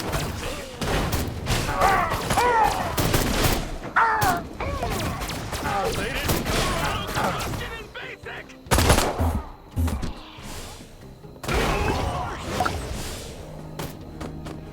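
Rapid gunfire and zapping bursts from the video game Destroy All Humans! come in dense volleys with explosive booms, loud and close, mixed with game voices talking in between.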